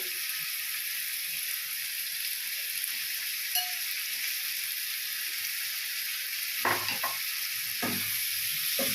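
Boiled potatoes being stirred into a sizzling prawn curry masala, a soft steady sizzle under a few scraping clinks of a spatula against the pan near the end, close up with no talking.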